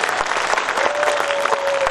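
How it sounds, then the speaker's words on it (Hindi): Audience at a poetry recital (kavi sammelan) in Jhunjhunu claps steadily, a dense, even wash of applause from many hands throughout. "अच्छा आप लोग बहुत अच्छी तालियां बजा रहे हैं"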